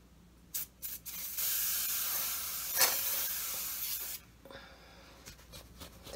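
Aerosol makeup coat sprayed for a Twi'lek Star Wars costume: a few short puffs, then a long loud continuous hiss lasting about three seconds, then brief softer bursts, close to the mic with no talking.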